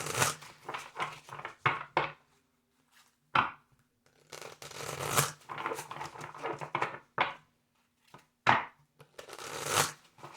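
Tarot cards are shuffled by hand in quick, papery bursts, close and fairly quiet, with short pauses between riffles and no talking.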